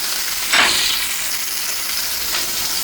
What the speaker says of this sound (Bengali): পেঁয়াজটাকে তেলের মধ্যে একটু হালকা ভেজে নেব